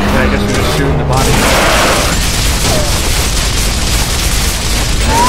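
Gunfire in the video game Gears of War Part 1 sounds as loud, close bursts of shots and booming impacts that fill the whole stretch, with voices mixed in.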